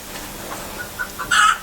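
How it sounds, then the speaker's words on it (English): A broody hen shut out of her spot clucks unhappily: a few soft, scattered clucks build to one louder, drawn-out squawk at the end, close by with no talk. "Our chicken's not sounding very happy."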